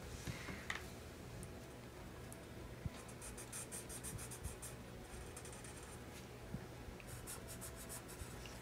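A pen draws short zigzag lines on paper, giving faint scratchy strokes in two brief clusters over a quiet, hissy room background.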